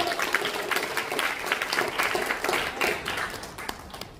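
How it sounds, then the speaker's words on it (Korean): An audience in a hall applauds to welcome a speaker at a launch event, a dense, even wash of many hands clapping that holds steady throughout. "박수로 환영하겠습니다."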